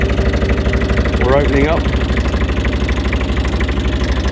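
A car engine idles steadily after warming up enough for the thermostat to open, a constant low rumble with even pulsing, close by, while someone talks over it briefly.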